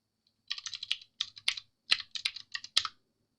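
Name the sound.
typing on a computer keyboard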